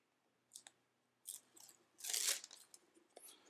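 Backing paper peeled off adhesive sticky dots for leather wet molding, a few short close crinkly tearing bursts with one longer rip in the middle, quiet and alone.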